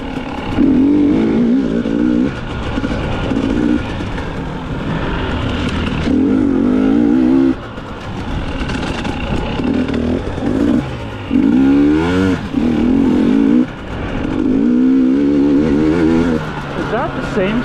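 Dirt bike engine revving hard during a hare scramble race at Fordville RidgeRunner, loud and close with repeated rising and falling rev surges and gear changes, a rider's voice speaking over it at times.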